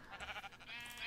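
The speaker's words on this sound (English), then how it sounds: "Hello, sheep." Minecraft sheep bleating in short wavering calls, two or three bleats close together, fairly clear and near over light game ambience.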